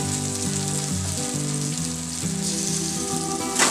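Green chilies and cumin seeds frying in a pan for tomato chutney, an even close sizzle under a continuous melodic background music track, with a short louder burst at the very end.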